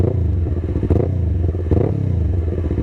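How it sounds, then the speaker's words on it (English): A motorcycle with aftermarket exhaust idles close and loud in a deep, rumbling throb, with two short blips of revving during rev-matching, and no voices. "Plus exhausts make rev matching sound wicked."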